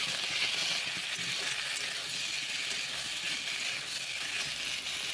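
Medium potatoes frying in hot mustard oil, a steady, even hiss of sizzling heard up close, fairly quiet and continuous with no stirring strokes or voices.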